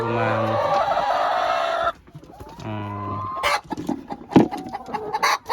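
Laying hens in a small backyard flock of about ninety chickens cluck and squawk up close in short bursts, with one long, loud, crow-like call to start and scattered rustling between calls.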